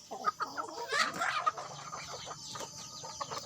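Several free-range village chickens cluck and chatter close by, with short squawks and soft clucks overlapping in an irregular, busy flock sound.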